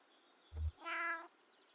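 Cat in the video game Kentucky Route Zero gives one bright, drawn-out meow right after a soft low thump, heard alone and fairly close.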